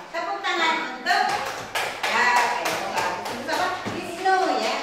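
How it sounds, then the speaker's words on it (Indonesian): Classroom applause for a pupil named Wisnu during a primary school lesson, with a burst of children's clapping, uneven and close, accompanied by taps and thumps. "Tepuk tangan untuk"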